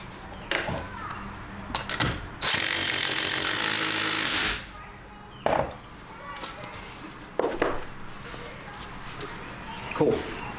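A bolt is fastened on BMW F30 suspension parts during assembly, with a loud, sustained mechanical rattle of about two seconds in the middle and scattered knocks and clunks before and after it.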